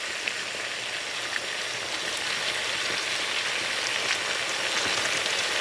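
Meat frying on high heat in plenty of oil for Puerto Rican carne frita, a loud, steady, close hiss and crackle of sizzling that holds constant throughout, like rain on a surface.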